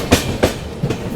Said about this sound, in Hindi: ये आप लोग देख सकते हैं डिपार्चर लेती हुई राज्य रानी एक्सप्रेस